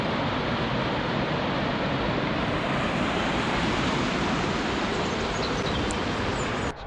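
Waterfall on a steep Lake District trail near Sticks Pass, a dense, continuous roar of rushing water close to the listener, steady throughout with no talk.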